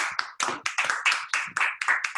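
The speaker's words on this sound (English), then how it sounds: "Clap for them too." Applause from a crowd, a steady patter of many hands clapping at moderate volume for a couple of seconds, with no voices.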